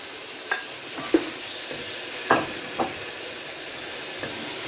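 Beef and sliced onions frying in oil for Ghanaian oil rice, a steady low sizzle with a few sharp spits and crackles popping out at intervals.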